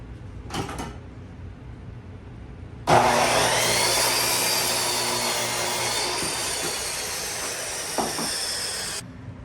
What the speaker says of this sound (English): let's cut our 7 foot pieces